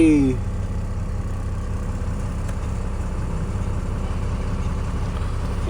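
A truck's diesel engine idles steadily, a loud, even low rumble that holds from start to finish after a brief high tone at the very beginning.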